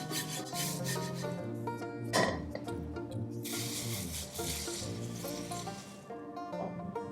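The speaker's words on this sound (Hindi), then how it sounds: "स्लो फ्लेम के ऊपर मुरमुरे को हम रोस्ट करेंगे ड्राई हीट में 1 से लेकर 2 मिनट के लिए बस।" Puffed rice dry-roasting in a pan over a low flame, a continuous soft rustling and rasping as the grains are stirred and shuffled, close and steady with one brief louder scrape.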